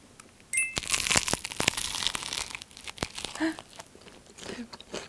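A crispy snack being bitten and crunched up close, crackling and crinkling in irregular bursts while people chat over it.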